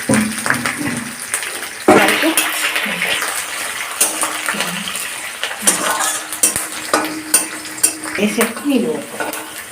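Chana dal, curry leaves and coriander fry in a pan with a steady sizzle, close by. A spoon scrapes and clinks against the metal in irregular strokes as the mixture is stirred.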